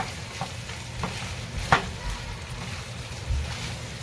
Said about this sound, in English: Okay, so I just checked on it, mixing it up here.